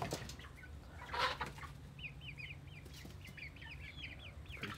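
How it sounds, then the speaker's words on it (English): Backyard chickens and baby chicks make soft clucks and a brief rustle of flapping wings, then high, repeated peeping from the chicks over a low hum, all fairly faint. "Birds."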